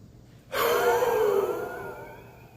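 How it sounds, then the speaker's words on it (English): A forceful puff of breath pushed out during a qi gong exercise, one sudden loud exhale starting abruptly and trailing off slowly as the lungs empty. "I'm going to kind of point down at this point and puff that breath out so I'm not breathing on somebody."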